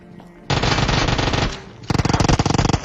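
Gunfire in PUBG Mobile: a sustained burst of automatic fire, then a brief pause and a rapid stream of distinct, loud shots close by.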